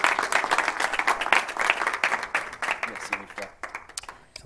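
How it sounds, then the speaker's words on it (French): Applause from a conference audience fills the room, loud, dense clapping that gradually thins and fades, with a voice speaking briefly over it. "Je vous demande d'applaudir Rand Indy."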